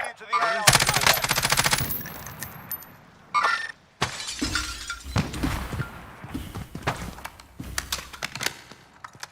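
Bursts of rapid Call of Duty Warzone gunfire rattle close and loud, mixed with shattering glass and sharp impacts. Short pauses separate the volleys.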